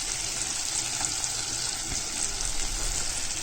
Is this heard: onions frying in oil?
yes